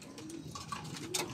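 A Janssen racing pigeon, a large distance breed bred for speed, coos close by in a short, soft, throaty phrase over steady background noise.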